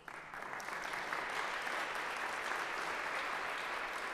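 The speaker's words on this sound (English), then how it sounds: "An applause to Our Lady." An audience at a religious talk applauds steadily, a dense wash of clapping that rises quickly and holds for several seconds, heard fairly faint and distant.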